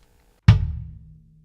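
A single hit on a 20-inch bass drum, a deep boomy thump that rings out and fades over about a second, close and alone.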